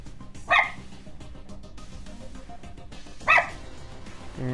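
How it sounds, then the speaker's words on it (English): The dog Gidget gives two sharp, loud barks a few seconds apart, standing out over a low background of game music and murmur. "Gidget! Why you barking?"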